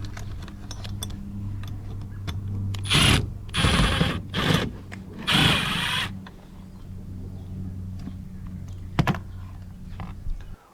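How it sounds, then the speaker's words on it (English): A Phillips screwdriver backs out loose screws from casement window hardware, heard as a few short close bursts of scraping and ratcheting between quiet stretches with faint clicks. "now I'm going to take a Phillips and I'm going to remove both of these screws that are loosely holding the hardware in place"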